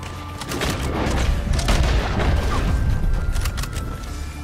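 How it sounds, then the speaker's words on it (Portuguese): Gunfire erupting from all sides in the online game Red Dead Online, a dense barrage of overlapping shots and booms with a rumbling low end, sustained and loud throughout. "Aí, tem tiro vindo de todos os lados."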